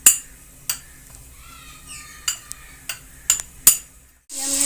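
Whole spices and a broken bay leaf stirred in a cooking pot for chicken korma, heard as several sharp, spaced clinks and scrapes over a quiet background, close up, ending in a louder burst of sizzling.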